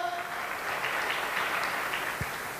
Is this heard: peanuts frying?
no